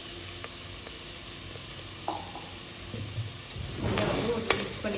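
Vegetables with roasted ground masala stirred in a pan, a soft sizzle under scattered spoon taps and scrapes that grow busier toward the end, close and fairly quiet.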